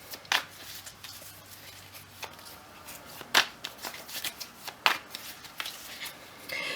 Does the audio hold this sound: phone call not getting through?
no